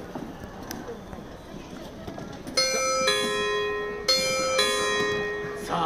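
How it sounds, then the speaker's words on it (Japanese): A bell at an outdoor film festival red carpet event in Okinawa rings out in two clear bright strokes with long ringing decay, loud over a murmuring crowd background. "この鐘が鳴りました"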